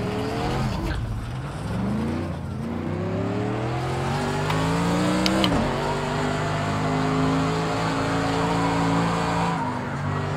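Mercedes AMG GT3 race car in Project Cars 2, its engine droning loud and steady through rising and falling gear sweeps, with brief tire squeal as it brakes and shifts over about ten seconds.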